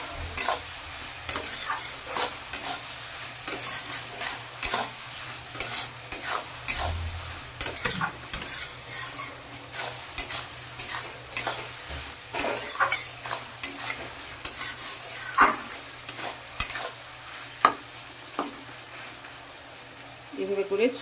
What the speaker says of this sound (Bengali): এখন আবার একটু ভালো করে নাড়াচাড়া করে নেব।